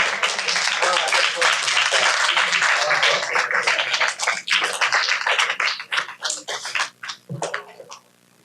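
Operating room staff at a retreat giving loud, dense applause that fills the room, then thinning to scattered individual claps and fading near the end.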